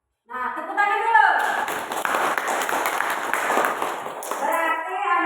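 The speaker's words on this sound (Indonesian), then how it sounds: "tepuk tangan dulu" A classroom of children breaks into applause, a dense burst of clapping that starts suddenly and carries steadily for several seconds, with a teacher's voice speaking before and after over it.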